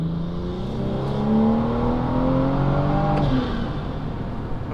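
A tuned car pulls hard on a dusty Nevada road with its wheels spinning, the engine note climbing steadily for a few seconds before dropping off, loud and close.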